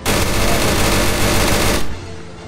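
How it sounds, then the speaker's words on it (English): Grenade launcher firing in a video game: a loud, dense run of blasts lasting about two seconds, then cutting off abruptly to a quieter background hum. "Actually, I will keep it for the grenades. It's a grenade launcher."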